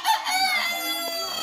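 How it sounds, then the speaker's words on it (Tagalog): Roosters kept apart in a chicken coop pen crowing, a clear drawn-out cock-a-doodle-doo call close by, with faint clucking in the background. "Videohan natin yung mga tandang."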